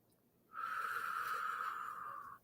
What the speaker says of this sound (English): And then I just breathe deep and slow.